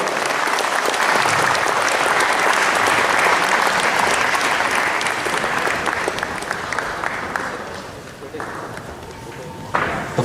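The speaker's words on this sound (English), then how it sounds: "Let us give them a big round of applause." A large crowd claps loudly and continuously at a Republic Day 2022 prize ceremony honouring winners of a cricket league, sustained for about eight seconds before tapering off, with voices audible underneath.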